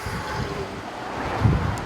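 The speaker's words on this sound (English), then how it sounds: "You hear how windy it is." Strong wind buffets the microphone on Miramar Beach in Destin, Florida, a constant rushing roar with gusty swells and surf blended underneath, no voices.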